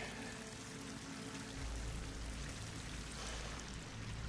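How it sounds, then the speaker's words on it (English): Water pours in steadily in a rushing, hissing stream inside an enclosed pit in the game Horizon Forbidden West, swelling slightly partway through and continuing alone without voices. "Water's coming in."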